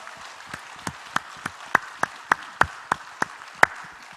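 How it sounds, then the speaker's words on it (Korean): A church congregation claps during a Korean Sunday worship service, heard as a fairly faint series of a dozen crisp, evenly spaced claps in a steady rhythm. "우리의 생명 되시고 능력이 되시고 소망이 되신 우리 주님께 감사와 영광의 박수 올려드리겠습니다."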